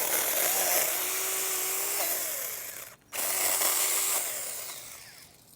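A Saker mini portable electric chainsaw cuts through wood with a continuous high whine, drops out for a moment mid-cut, then resumes and tapers off, close and alone.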